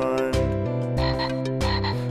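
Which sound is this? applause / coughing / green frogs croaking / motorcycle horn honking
green frogs croaking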